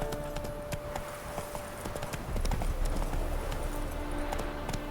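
Roach, a horse in The Witcher 3, gallops with a steady, fast run of hoof clip-clops that grows louder partway through, over a low, continuous game background.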